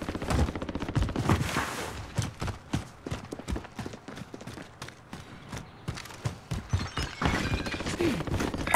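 Rapid bursts of gunfire in the video game Warzone during a quads match, dense repeated shots and impacts crackling throughout at fairly close range, with no talk.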